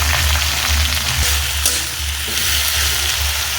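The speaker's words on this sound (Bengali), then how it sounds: "কেটে রাখা পেঁয়াজটা এর মধ্যে দিয়ে এবার ভালো করে একটু লাল লাল করে ভাজতে হবে" Chopped onions frying in a pan for Kashmiri doi chicken, a loud continuous close sizzle with steady hiss and low crackle, no talk over it.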